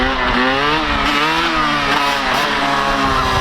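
A Yamaha YZ125 two-stroke dirt bike revs loud and close, its buzzy engine rising and falling steadily.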